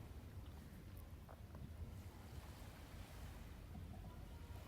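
Ocean waves and wind at night at Marsa Alam on the Red Sea coast make a soft, steady, low rushing wash, faint and unbroken, with no talking.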